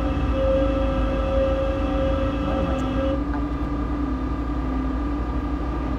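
A steady drone of a video game DB Class 189 electric locomotive's wheels slipping under a freight train, with a sustained whine and hum, continuous and fairly loud, with no talking.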